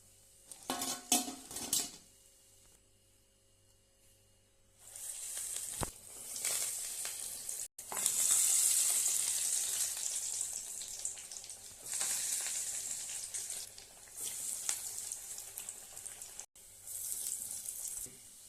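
Cowpea (karamani) vadai deep-fry in hot oil with a steady hiss and crackle that swells and fades across the stretch, mixed with clinks of utensils and brief bursts of running water near the start.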